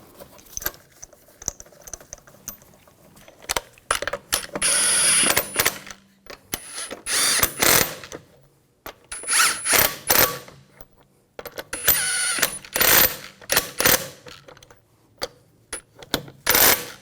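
A hand ratchet clicks in quick bursts while lug bolts are run down on a 2000-2006 BMW X5 front wheel, rapid ticking runs separated by short quiet pauses, close up.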